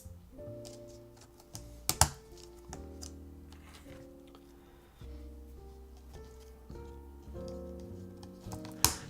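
Keys clatter on an Overture V2 mechanical keyboard, a pre-built board with silver carbon-fiber-style keycaps, in uneven bursts of quiet clicks with a few louder thocks, heard close over faint background hum.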